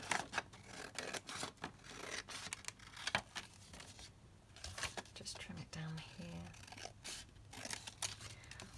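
Scissors snip and trim paper for a junk journal in a series of quiet cutting and rustling sounds, with soft speech and paper handling underneath.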